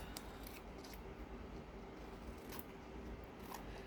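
Scissors trim quilt fabric with a few quick, soft snips over a low, steady background hum, close and faint.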